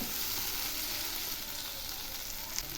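Spices, slit green chillies and potatoes fry in oil for a Bengali fish curry, giving an even, quiet, unbroken hiss of sizzling with one small pop near the end.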